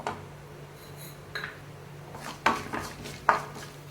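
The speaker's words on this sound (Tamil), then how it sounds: "இப்போ இந்த கடுகு சீரகம் எல்லாமே நமக்கு நல்லா பொரிஞ்சு வரட்டும்" Mustard and cumin seeds splutter in a hot pan for a masala dosa filling, giving a few sharp, scattered pops and crackles over a quiet background.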